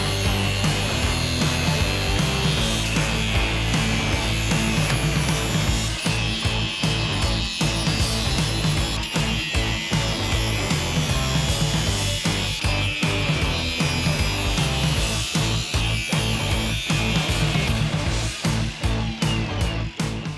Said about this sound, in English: So I went ahead and used the cutoff wheel.